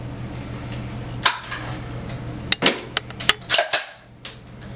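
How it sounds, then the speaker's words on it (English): AR-15 rifle being cleared, with its action and bolt carrier group worked by hand: a series of sharp metallic clacks and clicks, close and loud, spaced irregularly over steady background hum. "I'm going to take this time to make the firearm clear"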